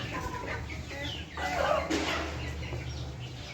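Soft clucking and chirping of young chickens close by, over a steady low background hum.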